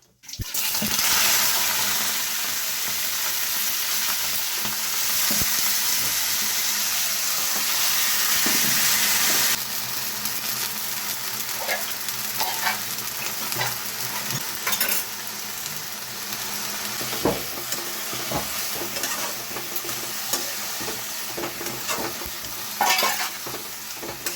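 Mixed vegetable curry with panch phoron fries in a pan, giving a loud, steady sizzle that starts hot and then settles, with scraping stir strokes breaking through at intervals.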